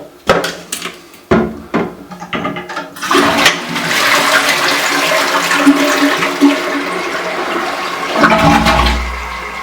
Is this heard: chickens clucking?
no